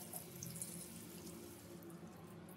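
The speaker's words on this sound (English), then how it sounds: "And finally, rinse your hands with water." Water runs steadily from a tap as hands are rinsed, a continuous soft splashing hiss with faint drips, quiet and close, with no talking.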